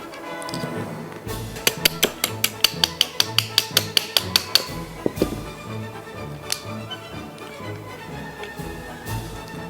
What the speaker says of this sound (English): let's go ahead and take the trigger out.